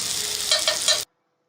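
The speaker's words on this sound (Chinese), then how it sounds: "记得带子不能煎太久，一收汁就可以取出来了" Scallops pan-frying in butter, a close bright sizzle with a few stirring scrapes, cutting off abruptly after about a second.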